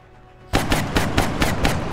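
Gunfire from the video game XCOM Long War rings out: a sudden loud burst followed by about five more rapid, evenly spaced shots, sharp and close, with no voices.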